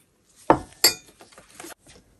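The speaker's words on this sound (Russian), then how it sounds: "Я сегодня мою хрусталь." Crystal glassware clinking during washing with starch and ammonia: a few sharp, close glassy chinks, two stronger strikes followed by softer taps and rattles in a quiet room.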